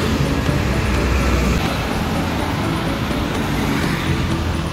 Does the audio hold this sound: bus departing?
yes